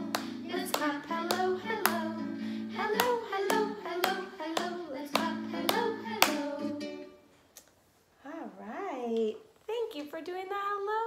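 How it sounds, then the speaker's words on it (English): Hands clap in steady rhythm along with a sung hello song, sharp claps over a singing voice and music, with a brief pause before the singing resumes. "Get ready to clap."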